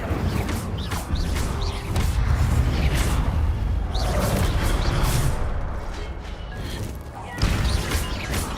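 The Incendio fire spell is cast in Hogwarts Legacy, with whooshing flame bursts, crackling impacts and clattering game effects repeating in layered waves over a dense background.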